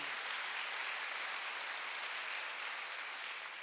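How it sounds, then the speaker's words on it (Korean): A church congregation claps together during a Sunday worship service, a steady wash of applause from many hands at moderate distance, holding even throughout before cutting off abruptly. "박수."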